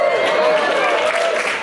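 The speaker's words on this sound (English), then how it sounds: "Yeah, you clap until you learn." Audience applause at a North Bend Theatre stand-up comedy competition in Seattle, a steady, close wash of clapping from a full room that sustains throughout the brief moment.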